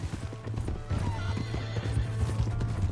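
Hooves of a horse in the Red Dead Redemption video game clop steadily over a busy game soundscape, with neighing and whinnying mixed in and a low rumbling drone underneath.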